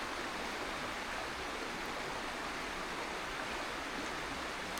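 Water flowing steadily in a stream beside a tarp campsite, a dense, even rush that holds constant and fairly loud throughout, with no voices.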